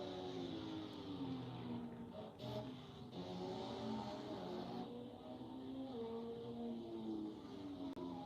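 Race cars roar along the Road America track during practice, heard at a distance, engine notes rising and falling in a steady drone as several machines pass.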